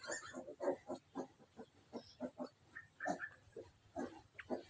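Piglets grunt in a pen beneath a tent shelter, giving a close series of short, uneven grunts and snorts that repeat steadily throughout.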